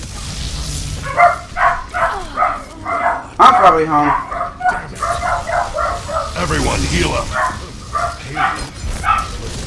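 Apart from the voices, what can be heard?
dogs barking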